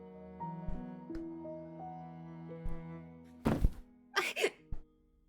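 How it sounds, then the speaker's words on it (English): In a video game, a few soft, muffled thuds over a low sustained musical tone, a body collapsing onto a carpeted floor. "I collapse to the floor. A soft carpet cushions the impact."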